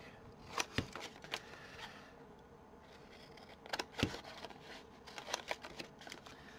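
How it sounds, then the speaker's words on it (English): Scissors trimming a paper book page for a collage, giving several sharp, close snips in small clusters over a quiet background, with no talking. "I like cutting it, so that's why I like using my scissors."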